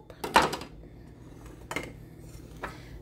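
A knife cuts into a frozen, chocolate-covered yogurt and strawberry dessert on a plate. Three close, crisp cracking scrapes sound against hard dishware, with the first the loudest and quiet pauses between them. No one speaks.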